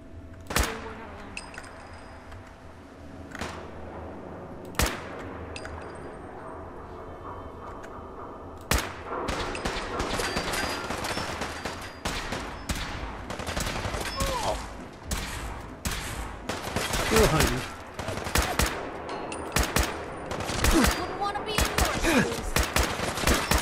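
Gunfire in the Fallout 4 video game, scattered sharp shots at first that build into dense rapid bursts and volleys, loud and close throughout.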